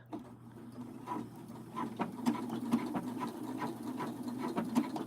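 A Husqvarna sewing machine stitching, quiet and close, with a steady low mechanical hum and a soft repeating rhythm of needle clicks, alone without talk.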